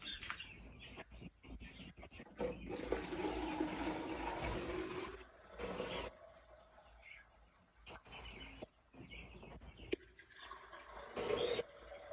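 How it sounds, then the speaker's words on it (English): Water pours and splashes while refilling chicken drinkers on a broiler farm, in gushing bursts broken by pauses, with birds chirping faintly nearby. "So now I'm gonna refill my drinkers."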